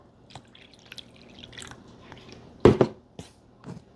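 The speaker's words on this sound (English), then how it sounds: "And all this water is going down throughout the tray." Water drains through a seedling tray, giving soft scattered drips and wet squishing ticks, quiet and sparse, with one louder cluster of splashes midway.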